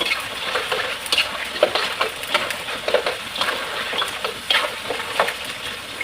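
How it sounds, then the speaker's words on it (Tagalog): Chicken fries in hot oil with a steady, bright sizzle while it is stirred repeatedly, with frequent scraping and clattering strokes close by. "Pero hahalu-haluin pa natin siya palagi para wag siyang masunog"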